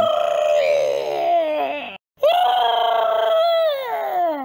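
A loud, drawn-out screeching war cry of the giant monster from Ultraman Blazar, with strong harmonics, rising and wavering, broken by a brief silence before a second long, squealing wail.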